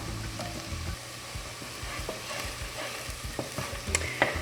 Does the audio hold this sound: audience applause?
no